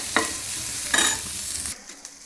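Food sizzling in a hot pan with chili added, a close steady frying hiss with a couple of brighter stirring flares, then cutting off abruptly near the end.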